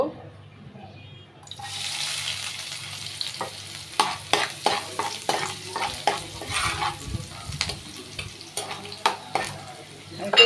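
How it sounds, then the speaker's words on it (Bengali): Onions hit a hot pan after a quiet moment and break into loud, close sizzling, with repeated scraping stirs, clanks and a faint voice in the background. "তো আমি এখন পেঁয়াজ দিয়ে দিব"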